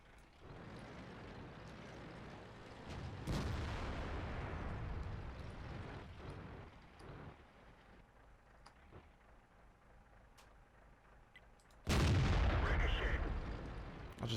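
Heavy tank cannon shots in the online game World of Tanks, two loud booming blasts several seconds apart over a constant engine rumble, with no speech.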